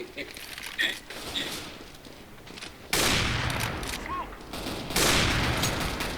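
Bursts of Counter-Strike gunfire, a quieter stretch of shots followed by two loud, sudden volleys of rapid fire, with faint footsteps and game noise between; a player talks over parts of it.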